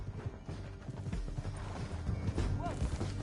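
Horse hooves gallop in Red Dead Redemption 2, a close, steady run of clip-clopping beats with creaking tack and a brief whinny near the end.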